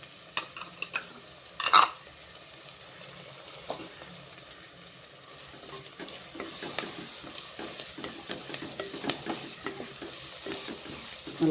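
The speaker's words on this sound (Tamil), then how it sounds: "நல்லா வதங்கட்டும்" Green chillies and onion sauté in a pan with a soft, continuous sizzle, joined by intermittent stirring scrapes and one sharper clatter early on, close and moderately quiet with no talking.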